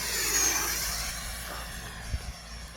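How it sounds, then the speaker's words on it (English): A Freewing RC F-16 V2 model jet on 8S power passes at full throttle, a loud rushing whoosh that peaks early and then fades away into the distance. "This might be the fastest jet I have filmed"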